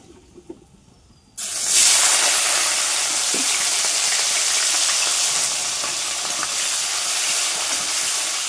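Onions hit hot oil in a pan already holding dried chili and bay leaf, setting off a sudden loud, continuous sizzle that holds steady and close after a brief quiet start.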